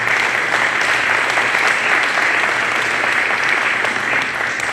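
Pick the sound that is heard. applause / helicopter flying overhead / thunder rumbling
applause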